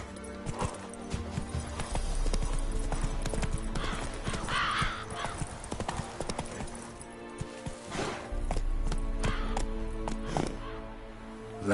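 Horse galloping in The Witcher 3 on PS5, rapid rhythmic hoofbeats close up under game ambience, with a brief whinny and some chatter in the middle.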